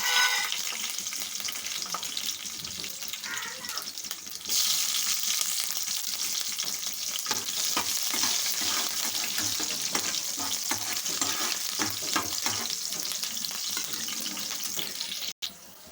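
A pan for okra pulusu sizzles steadily as green chillies fry in oil, with frequent stirring scrapes and clatter. The frying swells louder after a few seconds and continues close and unbroken until a brief cut near the end.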